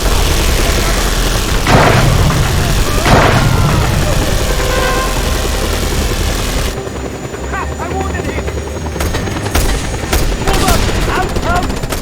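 Gunfire from government troops in the video game Just Cause 2, heard as dense bursts of shots under a steady roar of helicopter rotors. A voice talks throughout the chaotic combat.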